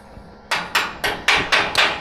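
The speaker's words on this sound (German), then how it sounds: "immer ein bisschen mit dem Hammer" Six sharp, evenly spaced hammer taps ring out close by on a construction site, each a crisp metallic strike with a short decay, after a brief quiet start.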